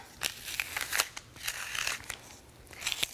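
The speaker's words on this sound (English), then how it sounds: "So let's peel off the tape and see how it turned out." Tape peeled off a painted canvas in a stained-glass style pixel art piece, a series of close, crisp crackling rips in short bursts with brief gaps, fairly loud and alone.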